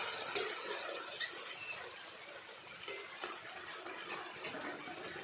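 Water poured into a pot of marinated meat for a village-style dish, a steady hissing trickle with a few small splashes and clinks, close by with no voices.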